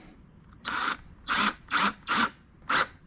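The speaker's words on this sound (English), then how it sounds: "and just drill it into the plastic." A power drill drives small screws into the plastic wheel of a Power Wheels Volkswagen Beetle ride-on toy, five short whirring bursts spaced evenly with brief pauses between them, close and fairly loud.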